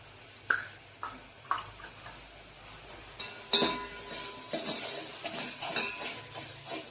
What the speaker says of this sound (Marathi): आधी हळद घालते, नेहमीप्रमाणे फोडणीत हळद.